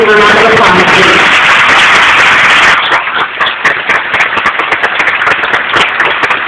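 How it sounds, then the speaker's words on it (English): Audience at a graduation ceremony claps, dense and loud at first, then thinning into scattered individual claps that carry on steadily to the end. "Could we give a round of applause, please?"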